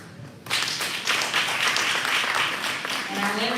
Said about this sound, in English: I want to give you guys another applause for being here